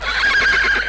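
A horse whinnies loudly and close by in a single sustained call with a shaky, quavering pitch, heard alone in an outdoor scene where the animal is being whipped.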